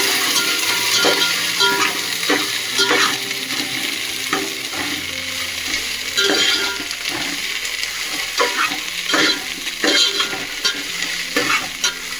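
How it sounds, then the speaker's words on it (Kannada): Steady frying in oil fills the background, punctuated by repeated scraping and stirring clatter from a utensil at close range. "ಎಣ್ಣೆಯಲ್ಲಿ ಹಾಕಿ ಒಂದ್ ಎರಡರಿಂದ ಮೂರು ನಿಮಿಷ ಫ್ರೈ ಮಾಡಬೇಕು"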